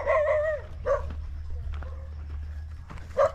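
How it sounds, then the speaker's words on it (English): A dog barks on a hillside at a rural farm in Cebu, giving a few distinct yelping barks at a moderate distance with pauses between them over a low background rumble. "We got a dog on the hill up here."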